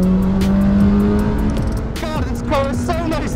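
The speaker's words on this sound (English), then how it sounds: "going out on track in a Radical SR1 for the first time" A Radical SR1 race car on a circuit, its engine droning loudly and close, with gear changes and rising revs as it pulls through corners.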